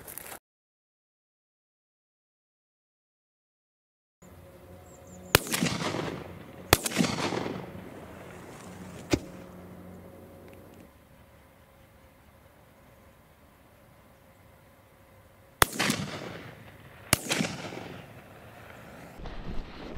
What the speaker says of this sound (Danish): Og Morten har lige fået to skud ned